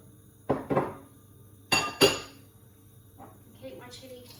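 Mushrooms tipped straight into a pan while cooking vegetable fried rice, giving a sharp clatter, then a second pair of bright metallic clinks and faint sizzling and handling sounds afterward.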